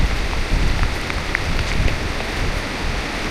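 Heavy rain falls in a forest on the Agasthyarkoodam trek, a steady, dense patter with scattered nearby drops and some wind, continuous and fairly close with no talking.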